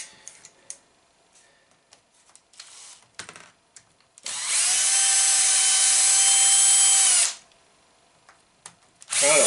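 A power screwdriver spins out screws on a Losi 4.0 RC car, one sustained whirring run of about three seconds between quieter clicks and handling taps, with no talk.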